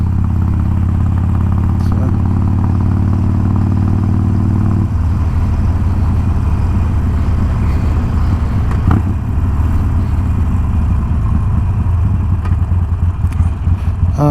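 A Harley-Davidson Sportster engine runs loud and close with a deep, steady rumble, turning rougher and lumpier after about five seconds. No one talks.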